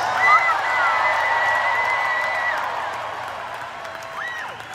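A huge crowd at Madison Square Garden cheers and applauds during a concert, a roaring mass of whoops and clapping with shrill voices rising above it.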